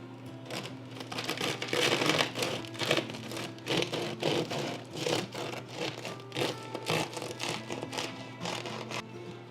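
A knife saws into a crusty rustic loaf baked with Parmesan and rosemary, giving quiet, rhythmic crackling crunches of the crust in repeated close strokes, with no talking.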